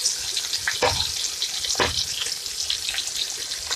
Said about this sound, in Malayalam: ജസ്റ്റ് ഒന്ന് ഫ്രൈ ചെയ്തെടുത്താൽ മതി.